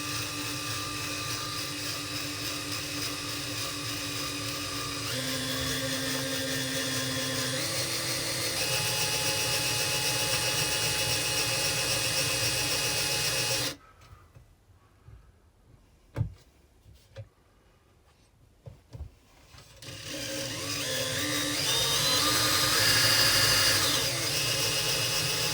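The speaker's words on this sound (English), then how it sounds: "So I'm just going to drill that through." Power drill boring through an aluminium mount for Samsung LED grow light strips, a loud steady whine for several seconds, a pause with scattered clicks and knocks, then the motor spinning back up.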